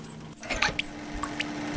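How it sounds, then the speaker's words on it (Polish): Water drips from a broken, leaking pipe in Growbot, a few soft, close plinks spaced irregularly over a faint, steady hum. "tutaj odkręcamy po prostu wodę. E, rura tutaj przecieka, jest zepsuta"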